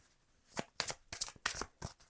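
Tarot cards slide and riffle as one is drawn from the deck, five or six short crisp papery swishes, close and quiet, with no voices.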